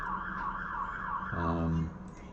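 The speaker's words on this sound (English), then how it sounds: "I'd really love if that fire engine can stop using the using its sirens" A fire engine siren wails in a steady rising-and-falling sweep, then a louder, lower horn-like blast cuts in briefly before the siren fades back, all at moderate distance with no talk.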